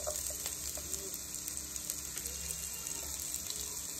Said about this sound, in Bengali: পেঁয়াজ আর কাঁচা লঙ্কা দিয়ে আমি একটু ভালো করে ভেজে নেব